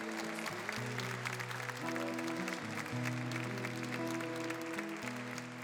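A church congregation applauds during a Thursday Eucharistic service, steady clapping over sustained organ or keyboard chords, fairly faint overall.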